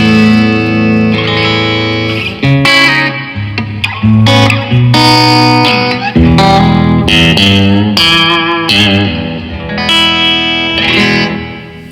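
Electric guitar played through a Blackstar HT20 Mk2 valve amplifier on a clean tone, loud and close with strummed chords and picked notes in an uneven rhythm, some peaks clipping, no talking.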